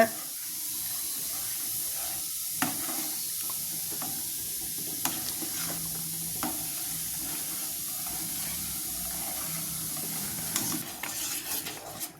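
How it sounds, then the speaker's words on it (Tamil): Semolina being stirred steadily into boiling water in a pan while making kalyana kesari, a continuous bubbling, scraping wash with a few faint clicks, close and even throughout. "ரவையை போட்டு நல்லா கலரணும். கை விடாமல் கலருங்க."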